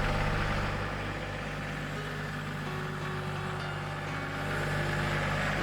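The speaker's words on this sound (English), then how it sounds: "We're going to start up the tractor and get out to the forest." A tractor engine runs steadily with a low, even drone heading out toward a forest, its pitch and level barely changing throughout, with no voices.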